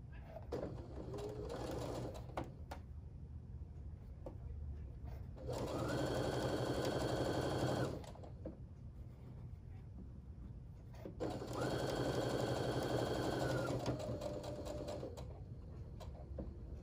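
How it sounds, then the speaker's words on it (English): A sewing machine stitching a partial seam on quilt fabric runs in two steady bursts of about two to three seconds each, loud and close, with quieter pauses between and no speech. "I'm lining up the square corner and just sewing part way."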